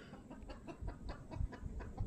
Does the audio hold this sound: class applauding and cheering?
no